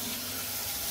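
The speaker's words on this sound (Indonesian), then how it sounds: "Ini kalau yang ini nggak pakai sabun ya, pakai air aja, air mengalir aja." Tap water runs steadily while parts of a Nespresso Gran Lattissima coffee machine are rinsed under it, a close, continuous hiss and splash with no voices.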